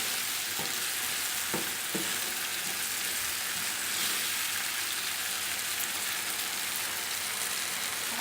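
Vegetables with chili sauce and soy sauce in a pan for Singaporean rice, a steady frying sizzle with a few soft stirring knocks early on, no voices.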